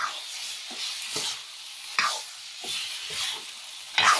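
Chicken sizzles softly in a frying pan as a utensil scrapes and stirs it in several uneven strokes, close by and with no talking.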